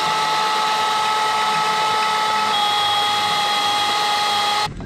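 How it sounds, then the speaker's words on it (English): A drill bores a hole in a Kawasaki 440/650 jet ski hull, a steady high whine held for nearly five seconds at close range before cutting off abruptly. "drilling my own hole here"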